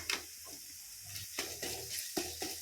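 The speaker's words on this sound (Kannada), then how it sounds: "1 ಸ್ಪೂನಷ್ಟು ಶುಂಠಿ ಬೆಳ್ಳುಳ್ಳಿ ಪೇಸ್ಟ್ ಹಾಕ್ಕೊಂಡು ಅದು ಹಸಿ ವಾಸನೆ ಹೋಗೋ ತನಕ ಫ್ರೈ ಮಾಡ್ಕೊಳ್ಳಿ." Ginger garlic paste frying with onions in a pan for spinach masala rice, a steady sizzle with several sharp scraping stirs against the pan, close and fairly quiet, no voices.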